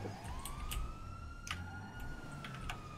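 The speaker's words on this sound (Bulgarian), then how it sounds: "Защо не изключиш сирените?" A police car siren in a chase scene wails in a rising sweep, steady and fairly close, with a few sharp clicks and knocks over a low rumble.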